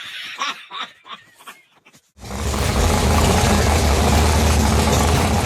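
After a few seconds of brief laughter and chatter, a race car engine roars in suddenly, loud, close and steady, a dense rumbling drone that holds to the end.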